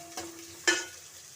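Onions, garlic, mustard seeds and fenugreek frying in oil in a pan for a tamarind curry, with two brief stirring scrapes over a faint steady sizzle, close by and quiet.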